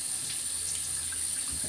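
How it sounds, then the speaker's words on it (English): Tap water runs in a steady hiss at a sink, with a few faint splashes as a face is rinsed, and no talking. "let me splash my face with water"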